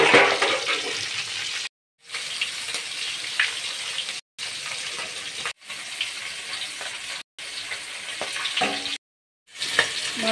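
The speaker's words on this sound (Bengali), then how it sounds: "তেল গরম হয়েছে, এখন আমি মাছগুলো দিয়ে এপিট ওপিট করে ভেজে নেব।" Pieces of pangas fish fry in hot oil in a pan for a fish curry, giving a loud, continuous sizzling hiss broken by several abrupt cuts of silence, with no voices.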